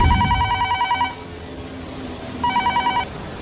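A telephone rings in two electronic trilling bursts separated by a pause, fairly loud and close, with no one speaking.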